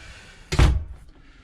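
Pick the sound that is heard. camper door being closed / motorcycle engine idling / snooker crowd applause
camper door being closed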